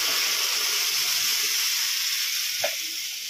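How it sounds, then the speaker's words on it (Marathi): Curry leaves and tempering spluttering in heated oil, a steady close hiss and sizzle throughout with one brief clink near the end, while a pressure cooker whistles somewhere in the home kitchen. "आता आपण यामध्ये फोडणी देतोय."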